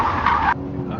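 A loud broadband hiss of a car braking hard at a drag race, stopping abruptly about halfway through and leaving a quieter engine hum.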